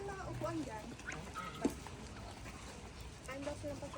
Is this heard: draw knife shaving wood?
no